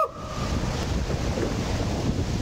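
Rushing water and wind noise fill a ride down a long water slide lasting around thirty seconds, a steady loud roar of splashing and airflow close to the microphone with no talk.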